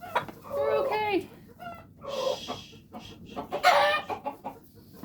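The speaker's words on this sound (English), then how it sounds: "Silkies are very dramatic chickens." Silkie chickens on a homestead cluck and squawk in agitated bursts, several calls close by separated by short quiet gaps, with a soft low rumble underneath.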